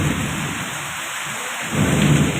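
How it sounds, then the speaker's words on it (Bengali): Heavy village rain in Cumilla pours in a dense, steady hiss while low rumbling thunder rolls underneath, swelling again near the end. "আকাশের খুবই ভয়াবহ পরিস্থিতি আর বৃষ্টি হইতেছে প্রচণ্ড জোরে"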